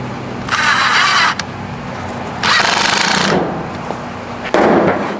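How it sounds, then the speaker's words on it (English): A power drill whirs loudly in three bursts, driving deck screws into a 2x4 stud with a rattling, high-pitched mechanical whine and pauses in between. "if I use deck screws, then I want this other drill bit thing"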